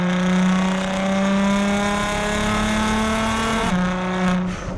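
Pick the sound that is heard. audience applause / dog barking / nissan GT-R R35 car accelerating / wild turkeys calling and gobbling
nissan GT-R R35 car accelerating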